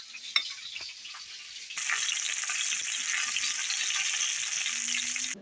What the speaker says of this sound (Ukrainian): Там ще смажаться.